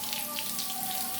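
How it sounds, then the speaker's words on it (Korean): Water pours down over four orchid pots at once during watering, a steady close hiss and patter like a rain shower running without pause, with no talk. "요 분 밑에 물 쏟아지는 거 한번 보시랍니까?"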